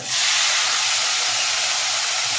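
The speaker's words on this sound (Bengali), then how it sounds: "পেঁয়াজ বাটা একটু ভালো করে ফ্রাই করে নেব" Onion paste frying in hot oil, a loud, dense, steady sizzling hiss that begins suddenly and holds evenly throughout, with no talk.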